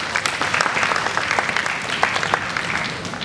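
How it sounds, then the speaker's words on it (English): A room full of people claps steadily for a school competition's adjudication panel at an awards ceremony. The dense, even applause holds for about three seconds with no voices over it. "Please, a round of applause for the panel."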